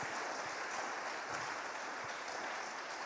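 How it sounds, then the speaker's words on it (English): A church congregation claps together at an English and Luganda Resurrection service, a steady dense wash of many hands filling the room without a break. "clap for Christ."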